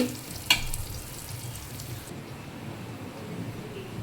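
Ingredients sautéing in a pan for Tamil fish kulambu, a steady soft sizzle with one sharp clink of a utensil near the start, then continuous low frying hiss throughout.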